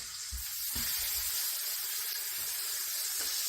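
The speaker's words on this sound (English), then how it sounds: "And now we're going to cook up our ham." Ham sizzling in a frying pan for red eye gravy, a loud, steady hiss of frying close up, with a few soft low knocks of the pan at the start and no voices.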